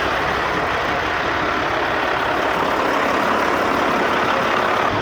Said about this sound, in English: There were just trucks backed up,